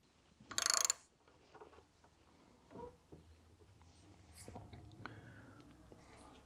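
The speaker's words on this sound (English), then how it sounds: "You then put a 19mm socket or ring spanner on the end, and you commence to crank" A nut splitter is cranked with a 19mm socket or ring spanner, giving a sharp metallic ratchet burst near the start, then faint scattered clicks and tool handling, quiet and close.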